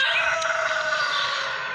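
A chicken in a video game world gives a single drawn-out, loud crowing call that is steady and close, and it is heard on its own with no talking.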